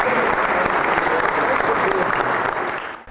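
Loud applause from a comedy brewery-tour audience fills the clip with dense, close clapping, some voices mixed in, before it cuts off abruptly near the end.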